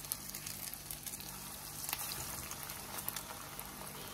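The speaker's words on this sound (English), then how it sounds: "the grease is boiling, bubbling around that. So that's the indication that the grease is ready to fry. So I'm gonna put my fish in there, salmon." Salmon croquettes fry in bubbling, boiling grease, a steady crackling sizzle with scattered pops, close and continuous without talk.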